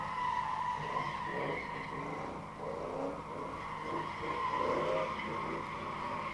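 A race vehicle engine held at full throttle while powering around a dirt berm at a test-and-tune session, a steady loud drone with rising and falling revs and some tire skidding.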